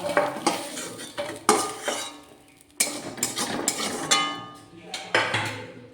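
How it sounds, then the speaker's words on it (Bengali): Fried prawns being lifted out of a kadai wok for a prawn poppy-seed curry, with metal utensils clattering and scraping in sharp, repeated knocks and a faint background sizzle, close and fairly loud. "ভাজা চিংড়ি মাছগুলো এবার তুলে নিচ্ছি কড়াই থেকে।"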